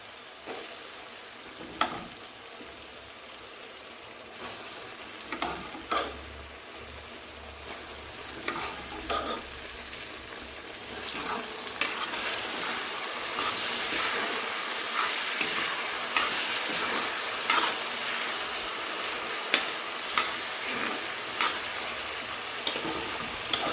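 Boiled chickpeas sizzle in an oily, spicy masala for tusa palako chana. A spoon stirs them with intermittent scrapes and taps, and the frying grows louder and busier partway through.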